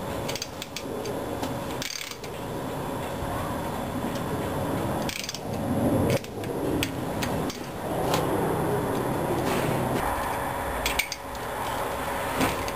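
A ratchet with an extension and a 5/8 six-sided socket tightens Chevy engine bolts, giving close, rapid clicking runs broken by short pauses as the tool is repositioned.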